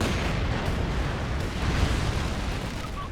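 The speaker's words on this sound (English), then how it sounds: "Flame mortar out the back." Flame mortar fire in Company of Heroes 2 during a 3v3 battle: a dense, continuous roar of blasts and booms blending into a loud, sustained wall of battle noise with no talking.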